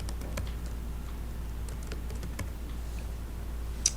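Quick, light clicks of typing on a computer keyboard while entering a field description in a database, an irregular patter of keystrokes, close and quiet.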